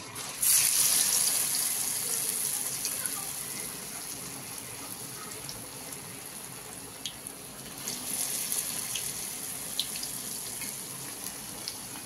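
Pumpkin chops dipped in gram flour batter hiss and sizzle as they fry in hot oil, a steady, soft, close frying noise with faint pops scattered through it.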